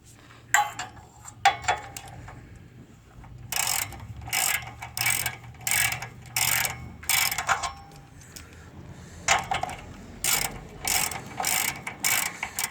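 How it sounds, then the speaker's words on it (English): A hand ratchet clicks in short bursts while loosening bolts on a 2011-2015 Nissan Rogue during CVT transmission removal, the quiet close rasping coming in rapid rhythmic strokes with pauses between. "Let's get our ratchet."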